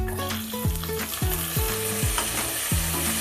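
Onions and tomatoes frying in a pan for mutton biryani, a dense steady sizzle with repeated scraping stirs and clinks of a spoon against the pan, close and loud throughout.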